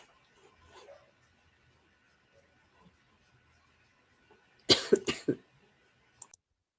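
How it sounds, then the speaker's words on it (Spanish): A short burst of several harsh coughs in quick succession stands out against near silence, preceded by a faint throaty sound. "Perdón, tuve como muchísima tos."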